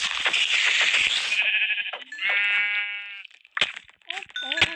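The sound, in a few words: sheep bleating in Minecraft video game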